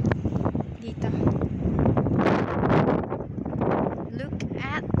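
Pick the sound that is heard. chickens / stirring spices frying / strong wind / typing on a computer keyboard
strong wind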